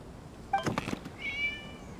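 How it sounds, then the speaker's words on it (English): A video game cat gives a couple of short meows, followed by a higher, drawn-out mew, heard alone against a quiet background. "It was just a cat."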